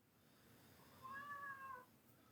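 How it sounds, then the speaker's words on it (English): A cat gives a single drawn-out meow, fairly clear and moderately loud over a quiet room hum, in a late-night live talk show setting. "the cat is still being persistent"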